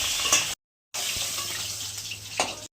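Pabda fish fry in white oil with a bright, steady hiss that drops out briefly for under half a second, then resumes close and even, with no voices.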